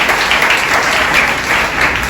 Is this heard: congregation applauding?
yes